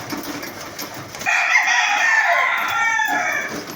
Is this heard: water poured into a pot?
no